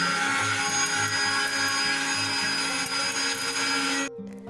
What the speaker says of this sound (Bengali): আমি এবার চালটাকে মিক্সির মধ্যে একদম পাউডার করে নিব।